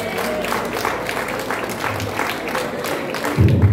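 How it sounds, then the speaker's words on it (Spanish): An audience at a traditional peasant costume contest during a San Isidro Labrador celebration applauds, a short burst of steady clapping from a modest crowd, with a louder low thump near the end. "Eso es, un aplauso para don Arturo."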